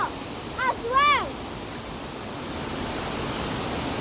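A waterfall in Snowdonia National Park, Wales, roars as a steady broadband rush of falling water, with a few short bird chirps near the start and no talking.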